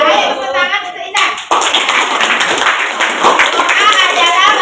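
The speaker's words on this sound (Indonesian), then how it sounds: "Ayo tepuk tangan untuk Izan." Schoolchildren in an Indonesian classroom break into brisk group clapping for a classmate, a burst of dense, close hand claps that follows a short stretch of a voice and keeps going steadily to the end.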